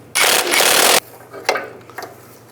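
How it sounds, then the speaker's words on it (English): A 19mm wrench and 17mm socket work the lower sway bar link nut on a 2005-15 Nissan Xterra, giving a loud, close burst of ratcheting metal lasting under a second, then a few lighter clicks and taps. "Now I'll take the lower one off, the same as the top, 19mm wrench and a 17mm socket"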